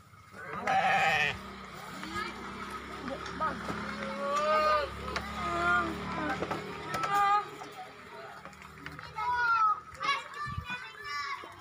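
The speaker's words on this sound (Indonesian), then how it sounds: "Ini kambingnya." Healthy, fat sacrificial goats bleat repeatedly and close by amid a busy, noisy pen, with children's voices and chatter running under the calls throughout.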